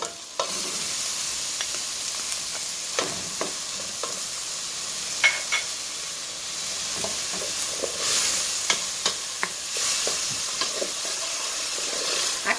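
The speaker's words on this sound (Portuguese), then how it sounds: "É só para dar uma refogada nessas verduras." Tomato and other vegetables sauté in a hot pan, giving a steady close sizzle and hiss with repeated scraping stirs and small knocks from a utensil.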